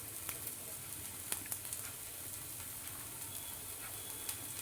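A plain dosa sizzles steadily as it roasts golden and crisp on an iron tava, a faint, even hiss with a few tiny crackles and no talking.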